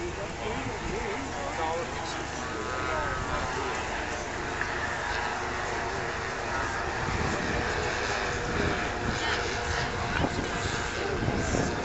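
WWII bombers flying over at an air display at Much Marcle give a sustained, rumbling multi-engine drone that swells slightly as they pass, heard at a distance with wind buffeting the microphone and people talking throughout.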